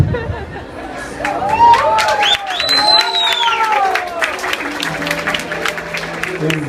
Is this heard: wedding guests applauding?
yes